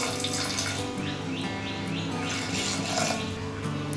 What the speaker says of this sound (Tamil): அரை டம்ளர் அளவுக்கு தண்ணி சேர்த்துடலாம்